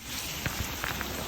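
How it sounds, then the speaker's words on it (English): Cold rain during a windy, severe summer thunderstorm, a dense steady hiss of drops striking surfaces close by with a few louder splats, no voices. "The rain's cold. It's so windy."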